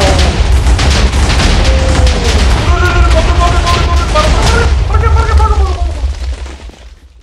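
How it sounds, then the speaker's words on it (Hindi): TNT explosions in Minecraft, a continuous rumbling roar of chained blasts, loud and dense, fading out at the end, with excited voices and game tones layered over it. "वाव कितना बड़ा ब्लास्ट है ये"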